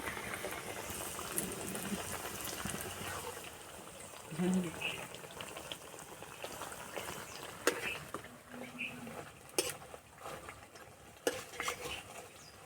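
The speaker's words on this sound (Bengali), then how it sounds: "বাকিগুলো একইভাবে ভেজে নেব" Nimki pastries deep-fry in oil with a soft bubbling sizzle, mixed with stirring scrapes and occasional sharp clinks of a utensil against the pan, while a voice briefly speaks.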